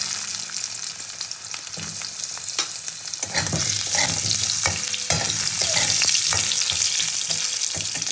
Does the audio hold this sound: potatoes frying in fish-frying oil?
yes